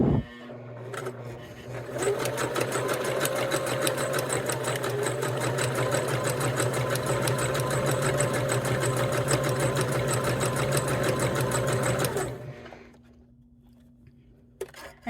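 A sewing machine stitches a rope coaster in one long, loud, steady run of rapid mechanical needle strokes lasting about ten seconds, then stops, leaving a low motor hum.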